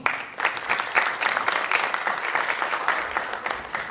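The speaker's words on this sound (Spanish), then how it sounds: "para quien pido un caluroso aplauso" Warm, sustained audience applause in a hall at a Latin American medical law congress, steady dense clapping for about four seconds with no speech over it.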